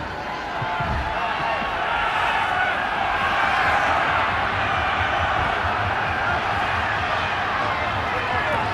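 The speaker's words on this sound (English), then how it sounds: "the Lansdowne Road crowd is still making a fair bit of noise" Steady roar of a rugby stadium crowd at Lansdowne Road during a Leinster versus Llanelli Scarlets match, a loud continuous wash of voices running throughout with no individual words standing out.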